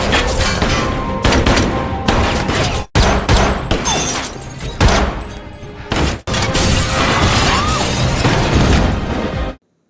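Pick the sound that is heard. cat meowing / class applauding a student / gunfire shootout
gunfire shootout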